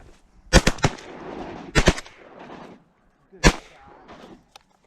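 Shotgun blasts ring out on a cold morning duck hunt in North Dakota, several loud sharp shots in quick pairs followed by a lone shot, with rustling between them.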